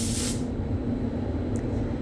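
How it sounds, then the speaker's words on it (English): A spray gun applies an epoxy primer coat to a car, giving a steady, close airy hiss that starts brighter and settles into a constant rushing sound. "it's 15 minutes worth of spraying when I was just doing the first coat on the car here"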